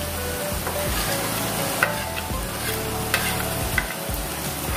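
Spices being stirred as they fry in a pan for an onion kachori filling: a continuous close sizzle with soft scraping strokes and a few light clinks of the spoon against the pan, and no voices.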